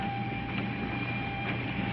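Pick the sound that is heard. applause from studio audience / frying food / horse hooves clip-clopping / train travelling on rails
train travelling on rails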